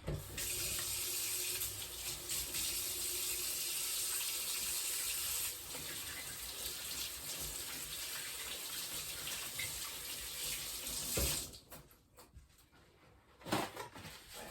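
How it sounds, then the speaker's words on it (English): A kitchen tap runs steadily for about eleven seconds while hands are washed under it, then shuts off, leaving quieter clatter and a final short splash near the end; no talking. "So let me wash my hands first."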